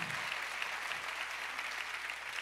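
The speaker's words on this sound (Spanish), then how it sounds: "Please give a very big round of applause again to Gaspar." An audience claps steadily at the TamTam DrumFest drum festival in Sevilla, a dense, even wash of applause that lasts the whole moment.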